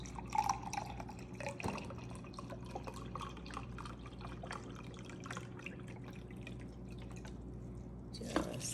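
Chicken broth is poured over cooked ground beef in a crockpot, a soft, continuous trickle and drip of liquid heard quietly with small splashes.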